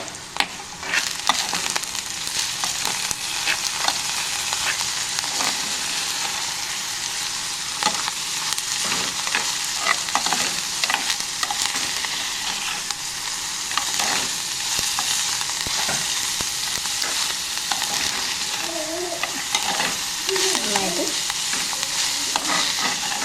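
Chopped onion and green chilli sizzle steadily in a pan while a spoon stirs them, a loud continuous frying hiss with frequent scraping strokes throughout and no talking.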